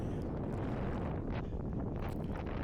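Strong gusty wind buffets the microphone continuously during a rainy 10K race along a seafront promenade, a loud, steady low roar with no voices.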